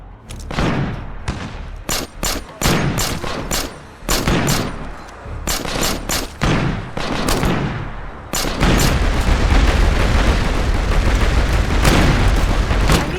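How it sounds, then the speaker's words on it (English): A mortar barrage in State of Decay Lifeline lands as a rapid string of sharp, booming blasts, loud and close, then merges into a dense, continuous roar of overlapping impacts. "Mortar team, fire barrage on my smoke."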